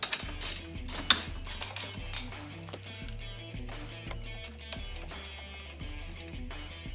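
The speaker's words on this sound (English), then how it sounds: "take your 12mm socket and remove the bolts that are on the bottom of that bumper support and the ones that are about midway up" A ratcheting socket wrench with a 12mm socket loosens bolts on the front bumper support of a 2016–2018 Yamaha Grizzly 700 ATV, clicking in quick repeated bursts close by, with no speech.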